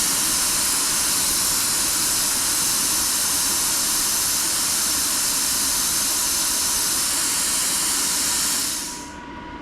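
Steady, loud hiss of compressed air from a Bestarc plasma cutter while its air pressure is being lowered toward 60 psi, running continuously before cutting off near the end.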